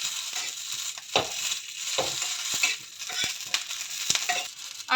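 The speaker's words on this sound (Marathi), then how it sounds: "सराट्याच्या सहाय्याने अशा मिरच्या ह्या प्रेस करून चांगल्या प्रकारे भाजून घ्यायच्या" Green chillies are pressed with a spatula and roasted in a pan for an urad dal varan, giving soft sizzling with intermittent scraping and pressing clicks, close and fairly quiet.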